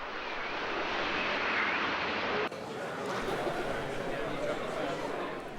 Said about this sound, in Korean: 세계 최초의 수직이 착륙 전투기 해리어.